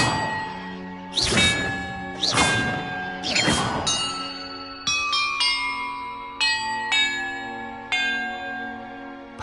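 Church bells rung in a Hogwarts video game: a few loud ringing clangs first, then a sequence of clear, sustained bell tones struck one after another, each note lingering and overlapping, with no talking.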